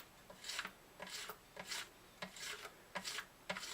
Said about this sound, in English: I think I'm going to go to sandpaper to finish it off.